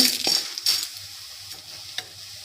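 Urad dal and coriander seeds dry-roasting on a low flame for curry leaf powder, a soft dry hiss with a few light stirring rustles and clicks, close and brief, with no voices.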